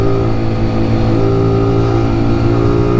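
A motorcycle engine drones loud and steady throughout on a mountain road climbing to the Col de l'Espigoulier, with a constant mid-pitched hum and no clear rise or fall of a pass-by.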